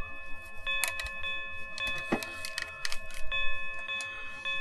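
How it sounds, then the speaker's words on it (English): A village bell ringing in the Tales of Phantasia game on PlayStation, sustained chiming tones struck several times over soft background noise, clear and moderately quiet. "That's the village bell."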